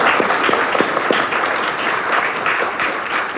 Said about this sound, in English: little round of applause for that.